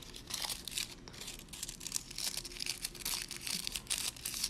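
Decorative nail foil being cut and handled close up, a continuous soft crinkling and rustling with small crackles, fairly faint and steady throughout.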